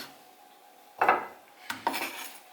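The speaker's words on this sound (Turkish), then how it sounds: "Bir de domates kesiyoruz ince domates dilimlerimizi kesebiliyoruz" A Tefal santoku knife slices through a tomato on a board, giving two short scraping cuts with soft contact taps, close and quiet with no talk.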